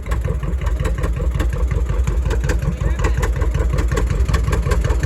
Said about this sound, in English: Poppin' Johnny's. Listen to those things pop.